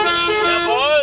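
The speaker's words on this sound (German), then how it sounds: "Einmal hupen." A car horn honks once, loud and sustained for about a second, a bright tonal blare with a slight pitch bend at the end.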